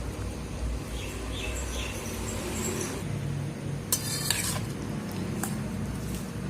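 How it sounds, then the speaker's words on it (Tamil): Soaked rice flakes being stirred into coconut milk by hand in a bowl, a soft steady mixing swish with a few light clinks of utensil against the vessel, close and fairly quiet. "ஸோ இந்த மாதிரி நல்லா மிக்ஸ் பண்ணி"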